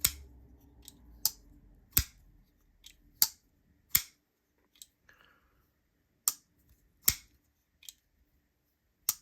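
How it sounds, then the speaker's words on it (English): Sharp, crisp clicks from a Qvist Variant PE G10 liner lock folding knife being opened and closed, about a dozen isolated snaps spaced irregularly over near silence, close up. "It's kind of your basic G10 liner lock sounding knife, if that makes sense."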